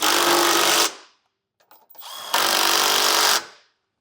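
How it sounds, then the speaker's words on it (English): A power tool driving a 19mm socket whirs loud and close in two bursts, tightening trailer hitch bolts on a 2022 Toyota Highlander, with a short pause of faint clatter between them. "we can take a 19mm socket and tighten them down"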